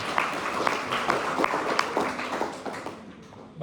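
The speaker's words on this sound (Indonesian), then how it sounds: "Tepuk tangan buat semua." Audience clapping at a regional Islamic school association assembly, a moderate burst of applause with distinct individual claps standing out, tapering off toward the end.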